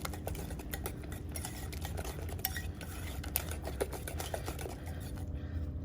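Spoon or whisk clattering against a bowl while mixing almond butter into banana bread batter, quick irregular clicks and scrapes, quiet and close with no talking.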